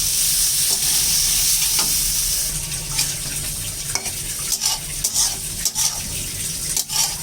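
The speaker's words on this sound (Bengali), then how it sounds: "সেই ভাজা আলু বেগুনটাকে দিয়ে একটু কষিয়ে নেব" Shrimp with fried potato and eggplant stir-fried in spices in a pan, a loud continuous sizzle with scraping stirring strokes that turn into intermittent spatula knocks, close up and without talk.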